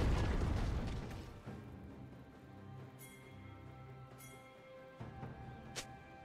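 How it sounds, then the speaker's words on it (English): A turret explodes in League of Legends, a loud deep boom at the start that fades into a rumbling tail, followed by fainter game effects and small pops. "Red team's turret has been destroyed."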